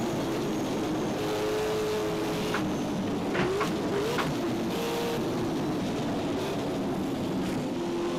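A Ford Mustang in the Automobilista 2 racing simulator gives a steady, continuous engine drone with a held tonal whine that shifts pitch slightly, with no talking over it.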